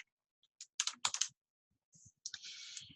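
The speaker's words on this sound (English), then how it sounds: "from here, we're going to type enclosure" Keystrokes on a computer keyboard while a letter is typed out, coming in short clustered bursts of crisp, close clicks separated by brief pauses, with no voices.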